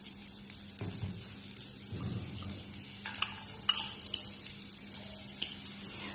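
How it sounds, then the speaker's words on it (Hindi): Chopped onions hit a pan of cumin seeds sautéing in oil for spinach soup, bringing a soft sizzle and stirring scrapes with a few sharp clinks of a utensil against the pan. No one speaks. "ये स्टेज पे मैं इसमें अनियंस ऐड करूंगी।"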